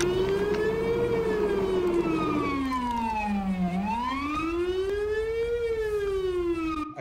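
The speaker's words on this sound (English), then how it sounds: "Cut the sirens off." A police car siren wails loudly and continuously, its pitch sweeping slowly up and down in long rising and falling cycles, close by and steady with no voices over it.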